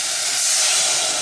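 White wine sizzles and reduces in a hot pan with a loud, steady, close hiss of steam that keeps going without a break.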